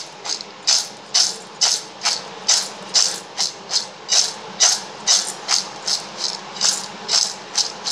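Roasted peanuts with chili powder and asafoetida are shaken hard in a container, giving a brisk, even, rhythmic rattle of about sixteen close shakes.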